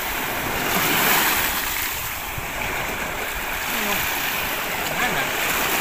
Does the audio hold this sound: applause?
no